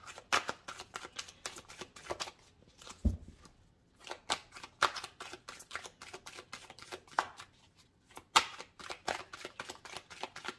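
Tarot cards being shuffled close by, a steady run of crisp riffling flutters and soft slaps of the deck with short pauses between, and no talking over it.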